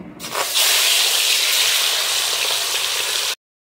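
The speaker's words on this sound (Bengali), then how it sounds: "মাছগুলো ভেজে নিচ্ছি।" Loud, steady sizzling of aar fish frying in hot oil, a dense crackling hiss that holds evenly for a few seconds and then cuts off abruptly.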